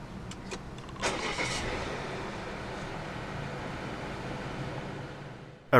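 A 2017 Volvo V90 T5 engine cranks and starts with a brief whirring catch, then settles into a quiet, steady idle, heard close and without talk.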